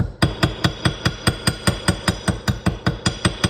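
The round end of a ball peen hammer taps gasket material around a hole, making about sixteen sharp, evenly spaced knocks in quick succession, close and clear.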